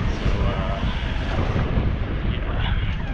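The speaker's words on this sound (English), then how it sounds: "this down here, you can get some really gnarly wind" Strong wind buffets the microphone in a steady low roar beside a hill climb, with dense rumbling gusts filling the whole stretch and no talk.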